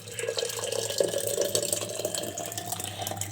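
Hot malai kulfi milk mixture, fresh off the stove, is poured into a clay matka pot, making a steady, close liquid splashing and trickling sound that runs throughout with no voices.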